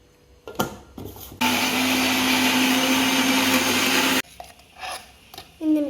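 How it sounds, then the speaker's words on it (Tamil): A kitchen mixer grinder grinds mango into a paste at full speed for about three seconds, loud and whirring, with brief clatters and handling noises before and after. "மிக்சரை மிக்ஸி நல்லா போட்டு பேஸ்ட் மாதிரி அரைச்சிக்கோங்க"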